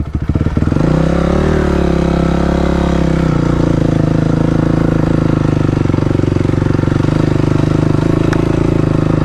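A blown-up Honda CBR1000 motorcycle engine runs loud and close, with a rough, rattling idle after a brief rise in revs at the start.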